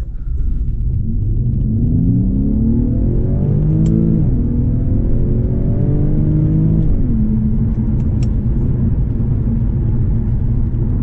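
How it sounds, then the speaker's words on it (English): Synthetic engine note piped through the cabin speakers of an Infiniti Q50S Hybrid in sport mode, a loud, close drone rising in pitch through two upshifts under acceleration over a low road rumble. "artificial sound pumped in through the speakers when you're in sport"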